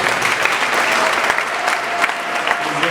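An audience at a film launch event breaks into dense, continuous applause, many hands clapping steadily for a few seconds with faint crowd noise underneath.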